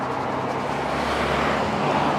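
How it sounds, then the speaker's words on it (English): Town road traffic heard from a sidewalk, a steady low rumble of passing cars and vehicles, continuous and fairly close. "Probably here there's a lot of traffic."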